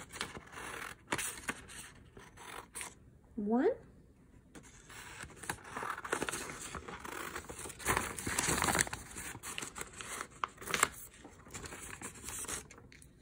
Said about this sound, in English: Take my scissors and start to cut out two triangles.